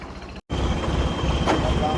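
A tractor engine runs loud and close with a steady low diesel rumble, cut off by a brief dropout before the drone resumes.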